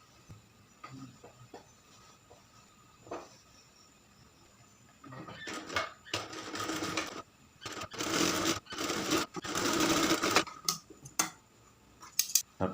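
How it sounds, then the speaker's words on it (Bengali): Sewing machine stitching a shirt collar onto the shoulder seam, with a few quiet ticks and handling clicks at first, then bursts of rapid close mechanical whirring that start and stop. "তারপর কাঁধে একটা চাপ সেলাই দেব।"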